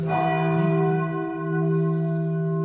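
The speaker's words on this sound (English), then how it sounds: "she lost all track of time until the clock began to chime" A clock chiming midnight sounds as a single loud, ringing bell-like stroke that holds steady and slowly fades, heard alone.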